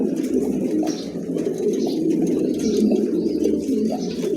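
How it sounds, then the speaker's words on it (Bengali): A newly acquired pair of pigeons coo steadily and close by, a continuous low throaty rolling with small repeated swells and no pauses. "নতুন কবুতর, একদম খুবই চমৎকার কবুতর জোড়া"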